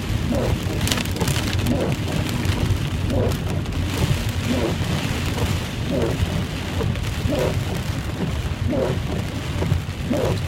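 Heavy, storm-like rain pours down on the road during a ride home, a dense, unbroken roar of drops with low rumbling beneath, loud and constant throughout.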